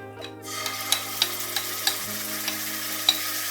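Hot oil sizzles steadily as spices crackle and pop in scattered sharp bursts while cooking paneer peas masala, close and continuous, with no voices.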